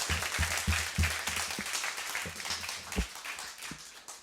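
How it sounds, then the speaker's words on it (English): Audience applause at an Ember.js NYC developer meetup, a moderate crowd clapping steadily for about four seconds with some individual claps standing out, sounding somewhat distant in the room. "let's give a round of applause for Tyler."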